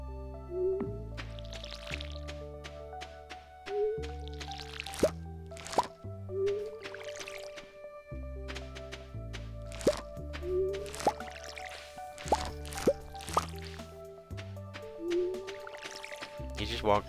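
Repeated watery plops and drips from crops being watered in Stardew Valley, with bright chimes and a musical backdrop, while voices talk over it.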